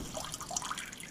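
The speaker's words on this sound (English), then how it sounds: "And this water, this will help dry the frost out of the turrs quicker." Water pours and trickles steadily over frozen common murres (turrs) being thawed, a close, continuous splashing stream.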